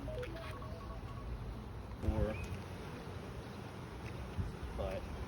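Bees buzz in a steady, dense hum close by during a beehive inspection, with faint voices occasionally heard underneath.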